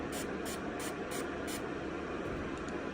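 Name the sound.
spraying a makeup product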